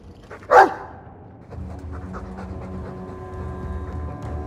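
A Mabari war dog in Dragon Age 2 pants steadily and close, with a short sharp yelp or whine near the start before the rhythmic breathing settles in.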